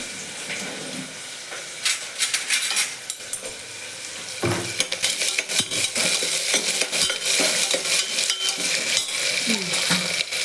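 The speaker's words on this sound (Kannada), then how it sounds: "ನಾವು ಈಗ ತರಕಾರಿ ಹೆಚ್ಚಿಕೊಂಡು ಪಲಾವ್ ಮಾಡ್ತಾಯಿದ್ದೀವಿ" Chopped vegetables for pulao (beans, onion, tomato and potato) sizzle in a pan as they are stirred, with a quieter start and a steady, louder frying crackle plus scraping from about the midpoint on.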